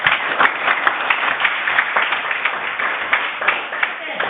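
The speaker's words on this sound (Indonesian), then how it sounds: "Dan sekarang kita beri aplaus buat kelompok 3" Classroom applause for a student group, a steady wash of many hands clapping close by that runs the whole stretch, with voices mixed in under it.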